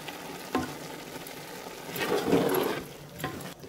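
Khoya being stirred into sweet orange zarda rice in a pan, soft sizzling and scraping from a close spoon with a few sharper taps, no talk.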